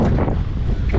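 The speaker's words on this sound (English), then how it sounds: "The wind, eh, James?" Steady gusty wind buffeting the microphone outdoors on a small boat at sea, with a low rumbling roar that stays loud throughout the short stretch.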